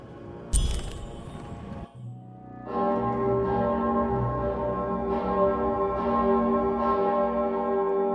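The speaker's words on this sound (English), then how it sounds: "Which one of you pranksters rang the bell?" A bell in the Lost in Random video game rings out after a sharp crack, with several resonant tolls that hang and overlap, loud and reverberant like a church bell, with no talking.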